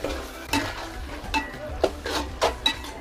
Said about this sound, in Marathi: दही घालून त्यांना एकदा पुन्हा मस्त हलवून घ्यायचं व्यवस्थित